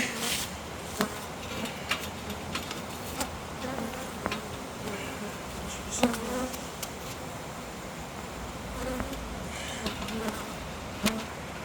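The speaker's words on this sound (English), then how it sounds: "Oh, we got quite a bit of bees here." Honeybees buzzing at an open hive during an inspection, a steady close drone of many bees, with scattered light knocks and clicks from handling the frames and no talking.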